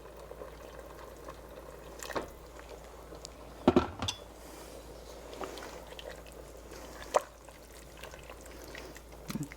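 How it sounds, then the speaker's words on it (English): Boiling water is poured into a pot over chicken in a few uneven bursts, with splashing and dripping over a quiet, steady background. "you just pour it in until the chicken is all the way covered"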